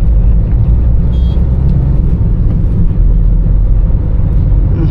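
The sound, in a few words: Toyota Innova Crysta car driving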